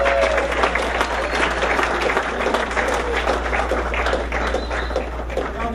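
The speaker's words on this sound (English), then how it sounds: "give a big round of applause to Ezra Washington." A comedy club audience applauds steadily and loudly as a comedian is brought onstage, a dense continuous clapping with a few cheers throughout.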